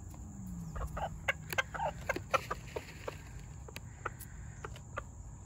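Backyard hens cluck and chatter in short bursts while being tossed mealworm treats, fairly close, with insects trilling faintly underneath.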